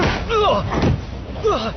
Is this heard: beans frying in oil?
no